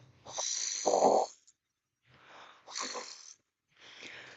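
A person makes a strong voiced exhale for the qigong spleen sound, imitating the rough start of a snore, repeated three times close up with short silent gaps.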